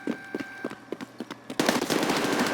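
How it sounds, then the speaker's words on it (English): Gunfire in the video game Escape from Tarkov: a string of evenly spaced single shots, then a dense burst of sustained automatic fire, loud and close, with no speech. "I am giving suppressive fire"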